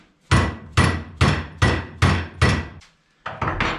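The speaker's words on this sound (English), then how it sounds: "Gentle hammer." About eight firm hammer blows strike a car fender part to bend it, evenly spaced and close, with a short pause before the last quicker taps.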